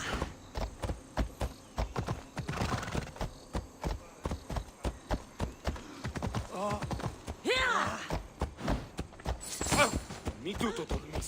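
Phobos, a horse in Assassin's Creed Odyssey, gallops with a steady, rapid clip-clop of hooves close by, and a voice speaks over the hoofbeats at points.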